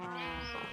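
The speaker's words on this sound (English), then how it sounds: "So we now have some sheep." Sheep in the Minecraft video game bleat in a short, harmonic, wavering cry, close and clear with nothing else around it.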